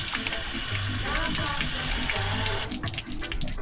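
Tap water runs steadily into a sink while calamari is rinsed under it, a continuous close splashing rush with slight shifts in the flow toward the end.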